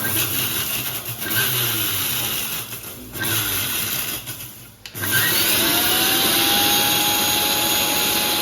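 A mixer grinder whirs loudly and steadily as it powders roasted herbal mix ingredients, the motor briefly cutting out and restarting between bursts, with no talking.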